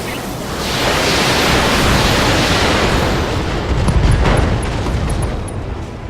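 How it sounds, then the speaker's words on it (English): A mech in the Battletech video game fires a full weapons volley, a loud, sustained roaring blast that swells and rumbles for several seconds like a long explosion, with no one speaking over it. "Firing everything I've got."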